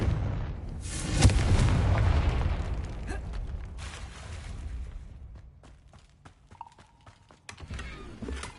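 The Confringo blasting spell in Hogwarts Legacy goes off as a booming explosion near the start, followed by a long rumbling decay with scattered crackles and faint game effects as it fades.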